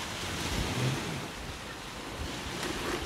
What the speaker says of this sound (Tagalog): so malumanay pa rin ang dagat